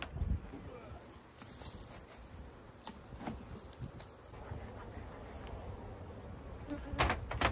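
Honeybees buzzing as a hive is broken open at the starter box during queen rearing, a close, faint, continuous hum with scattered louder passes, knocks and handling noises, and someone talking now and then.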